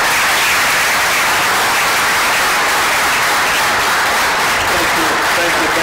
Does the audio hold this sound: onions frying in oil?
no